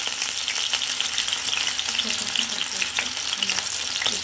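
Potatoes fry in ghee for a drumstick potato curry, sizzling and crackling steadily close up, with occasional stirring.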